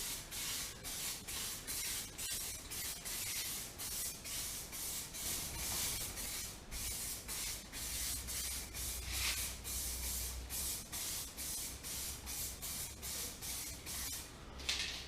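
A light dusting coat of automotive primer sprayed onto car paint at home makes a steady, close hiss that pulses in short repeated passes across the whole stretch, with a low rumble underneath and no talking.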